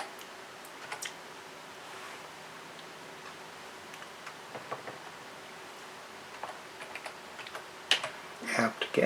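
Fingers tap out a terminal command on a computer keyboard while installing OpenCPN chart-plotter software on a Raspberry Pi: sparse, faint key clicks over steady room hiss, ending in a quicker, louder flurry of keystrokes.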